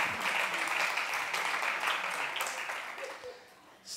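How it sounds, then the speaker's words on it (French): Applause from a church congregation during a pastor's sermon, a dense wash of clapping that gradually fades toward the end, with faint voices murmuring beneath. "Vous pouvez applaudir"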